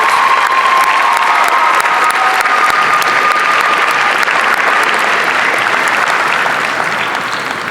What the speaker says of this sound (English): one more round of applause for Avery Daigle and Mercedes Smith